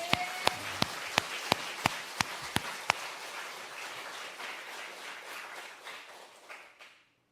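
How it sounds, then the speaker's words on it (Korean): A church congregation applauds together, a dense wash of many hands clapping steadily for about seven seconds with a few sharp taps standing out early on, then fading out. "다 같이 하나님 앞에 영광의 박수를"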